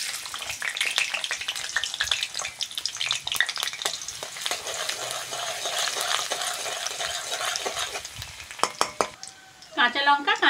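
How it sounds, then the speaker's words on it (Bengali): Black cumin seeds and chopped garlic sizzle and crackle in hot mustard oil in a kadai, with a bright, steady frying hiss, a few spoon clinks and stirring scrapes, and a brief quieter moment near the end. "প্রথমে কালো জিরে ফোড়ন দিয়ে দেবো।"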